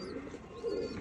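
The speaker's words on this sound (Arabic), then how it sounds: "وصل هذا الحمام" Pigeons of a rare breed imported from Europe coo softly and steadily, a low continuous murmur that swells slightly toward the end, with no talking.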